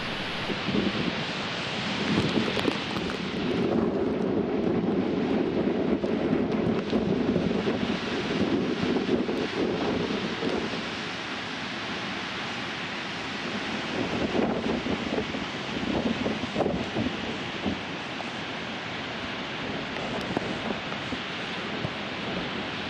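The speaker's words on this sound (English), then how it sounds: "Stopped at Devil's Churn and checked out the surf." Surf and strong wind roar continuously at Devil's Churn on the Oregon coast near Florence during a wild wind and rain storm, with heavy gusts buffeting the microphone and broad, rumbling wave wash throughout.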